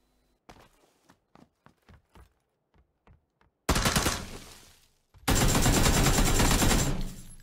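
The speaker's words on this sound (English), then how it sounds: "He shouldn't have shot because I didn't know he was there until he shot and missed." Gunfire in a shooter video game: a run of sharp single shots in a rough rhythm, followed by two loud sustained bursts of heavy automatic fire, close and alone.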